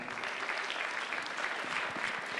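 Steady applause from an audience at a small music festival, a dense, even patter of many hands that holds at a constant level throughout, with no voices standing out.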